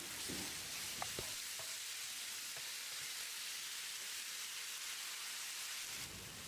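Tomatoes sauté in a pan for bhindi masala, the okra gravy served with chapati, giving a steady, even sizzle and hiss throughout, with a few faint clinks near the start and no talking.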